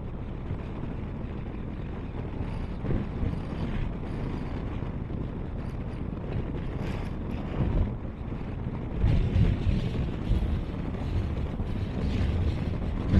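Strong wind roars and buffets the microphone throughout in a big rocky valley in Ladakh, with louder rumbling gusts toward the end.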